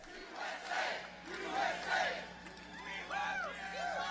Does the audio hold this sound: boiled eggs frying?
no